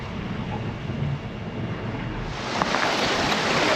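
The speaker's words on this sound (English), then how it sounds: "we're rolling. And the waves is going high." Waves run high around a rolling sailing boat on the way to the Outer Hebrides, giving a steady, loud wash of water and wind rumble that swells toward the end, with no voices.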